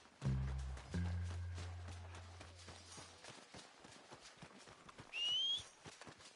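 Horse hooves in the video game Red Dead Redemption 2 thud and clatter over a low engine-like drone, followed by faster hoofbeats as the horse moves off, with a brief whistling tone near the end.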